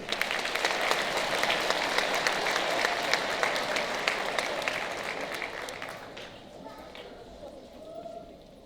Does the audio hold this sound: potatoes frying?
no